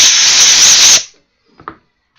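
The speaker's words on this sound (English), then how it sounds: "I got to blow it some compressed air. We got to clear the chips." Compressed air blasts metal chips out of a drilled hole for a thread repair, a loud, close, steady hiss for about a second that cuts off abruptly, followed by a couple of faint clicks.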